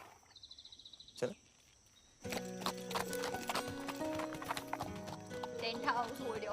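A horse's hooves clip-clop in a quick run, then a sharp whinny, followed by a busy burst of louder hoofbeats and movement, fairly close and dense.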